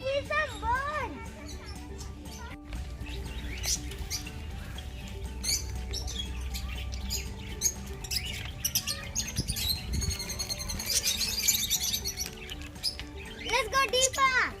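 Birds at a farm chirp and tweet in many overlapping calls, fairly close and lively, while children and adults talk and exclaim throughout.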